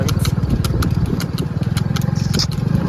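A motorcycle engine idles close by with a steady, throbbing low rumble and a rapid regular pulse that holds for a few seconds.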